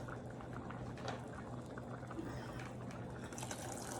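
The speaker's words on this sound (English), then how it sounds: "I'm going to add more water to these." Water flows steadily into a pot of navy beans, a continuous low, faint splashing and bubbling wash with no voices.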